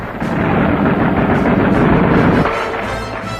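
Heavy naval and air bombardment rolls on as a loud, dense rumble of artillery fire and blasts, sustained and thundering before easing slightly near the end.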